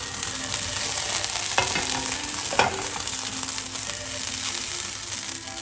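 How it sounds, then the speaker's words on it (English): A pan of steak drippings sizzles hard as cognac deglazes it, a continuous close crackle broken by a few scraping stirs. "During the deglazing, the alcohol dilute the caramelized bit of meat from the drippings"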